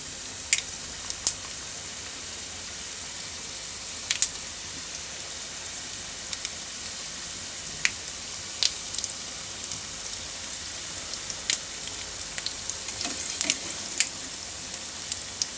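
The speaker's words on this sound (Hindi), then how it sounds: "अब इसमें मैं फ्राई कर लूँगी इसको डालने के बाद हम फ्लेम स्लो कर देंगे" Vegetable and chicken rolls frying in oil over a low flame, a steady fine hiss with scattered sharp pops and crackles, close and even throughout, no talking.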